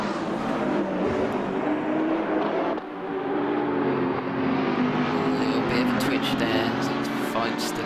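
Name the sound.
GT3 race cars passing through a corner in a racing video game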